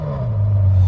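A car engine with a Milltek sports exhaust catches and settles into a deep, throaty rumble, brief and loud up close.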